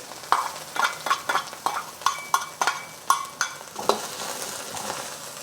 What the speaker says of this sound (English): Adding 1 more tablespoon of oil. And I'm gonna add my garlic and ginger.